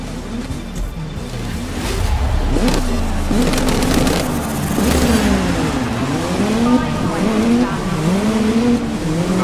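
Race cars at a Paris race in the Grid 2019 game revving and accelerating off the start, engine pitches sweeping up and down in layered whines with tire squeal, loud and continuous.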